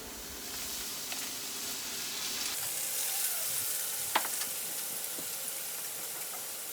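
Vegetables fry in a pan for pineapple teriyaki bowls, a soft steady sizzle with a hissing wash and a few faint clinks of stirring, quiet and alone.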